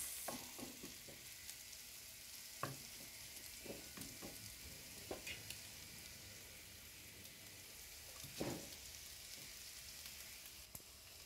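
Cooked rice is stir-fried with shrimp in a hot pan, giving a soft, steady sizzle with scattered scraping and stirring clatters, faint and close, with no voice heard.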